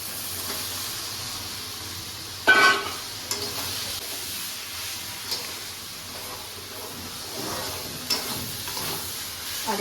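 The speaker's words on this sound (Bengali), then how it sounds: "এবার আমি সোয়াবিনটা এর সাথে দিয়ে একটু কষে নেব।" Soybean chunks being stir-fried in a pan with cooked spice paste, a steady low sizzle with a louder scrape of stirring near the start and occasional softer scrapes afterward.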